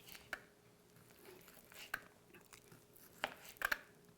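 A knife cuts potatoes into small pieces for fried potatoes with eggs, four or five sharp, quiet taps on a board spaced irregularly, the last two coming in quick succession, over a faint background.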